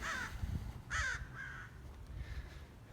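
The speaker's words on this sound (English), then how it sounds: "There's a crow cawing." Crows caw several times nearby on a city street, harsh calls in a short irregular series that fade to fainter caws, with faint traffic rumble underneath.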